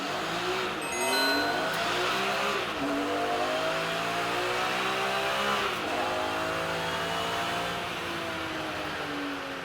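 BMW championship race cars accelerate on cold tyres at Snetterton, engines climbing through repeated upshifts in a loud, continuous onboard drone with no voices.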